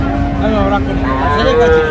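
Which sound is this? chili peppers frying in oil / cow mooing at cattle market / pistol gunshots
cow mooing at cattle market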